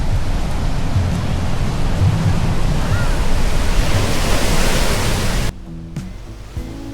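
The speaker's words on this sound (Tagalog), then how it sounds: "pero pag tanghali, ganyan kalakas yung alon" Strong sea waves wash onto the sandy shore at Tambobong beach in Dasol, Pangasinan, a loud continuous roaring surf that cuts off abruptly near the end, leaving faint background sound.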